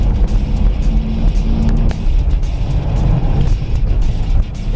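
A Mitsubishi Pajero Sport automatic SUV climbs a hill, its engine a loud continuous drone with steady road rumble throughout and no voices.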